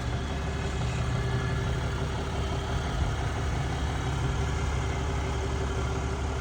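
A 2022 Ram 3500 Laramie pickup truck idles with a loud, steady, close-up engine rumble and an even mechanical hum that holds without change throughout, with no talking.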